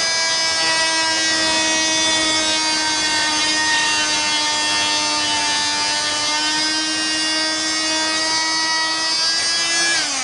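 A Wolf DIY electric power saw runs with a steady high-pitched whine and a strong harmonic buzz, continuous and close for ten seconds as it cuts into a piece of timber, with no voices over it.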